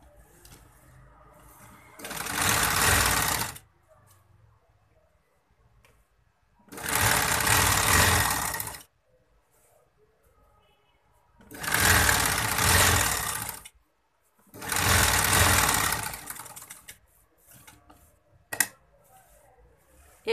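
A sewing machine stitches a kurti in four bursts of rapid, even whirring, each a couple of seconds long and separated by quiet pauses, close and loud, with a few small clicks near the end.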